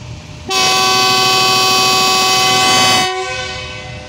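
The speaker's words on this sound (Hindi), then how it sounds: "जी, बहुत ही पावरफुल हार्न है इसका GU40।" A GU40 diesel locomotive leading the Shah Hussain Express sounds its powerful horn in one long, loud, steady blast of about two and a half seconds, then cuts off, leaving a lower rumble of the train.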